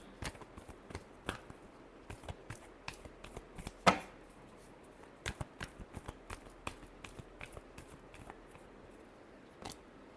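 Tarot cards being shuffled by hand in a quiet room: a run of soft riffling flicks and taps, irregular in rhythm, with one sharper snap near the middle, fairly close and unaccompanied by talk.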